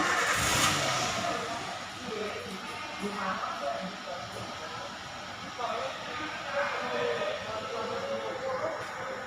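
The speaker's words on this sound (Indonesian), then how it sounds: "Kita hidupkan mesin." A car engine cranks and catches with a loud burst at the start, then settles into a steady idle under murmuring voices, in a workshop check of the emission control system.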